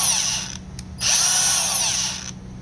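A new Milwaukee M18 125mm cordless angle grinder (M18CAG125) with motor trouble straight out of the box runs with a loud, high motor whine. It cuts out briefly, then spins back up and holds steady, close by.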